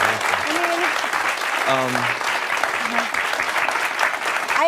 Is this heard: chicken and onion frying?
no